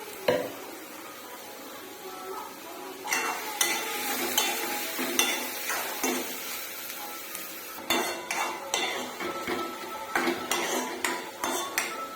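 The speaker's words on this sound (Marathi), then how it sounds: "कांदा छान गोल्डन ब्राउन कलर येईपर्यंत तेलामध्ये होऊ द्यायचा।" Finely chopped onion sizzles and fries in oil in a pan, with a bay leaf already crisped in it, under repeated loud scraping and stirring clatter of a utensil against the pan.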